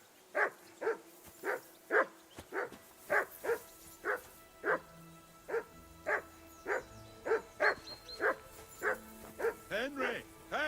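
A dog barks steadily in Kingdom Come: Deliverance II, about twenty evenly spaced, close, sharp barks over ten seconds, with quiet game ambience underneath.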